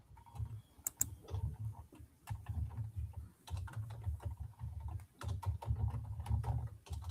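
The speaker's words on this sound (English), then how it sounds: "we're going to start typing in the search box" A computer keyboard is tapped in quick, uneven bursts as a search term is typed into a software search box; the clicks are soft and close, with brief pauses between runs of keys.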